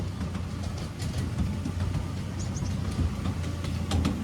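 A train rolls past old railway carriages in Wales, a steady close rumble of wheels and engine with brief higher squeaks and clatter over it.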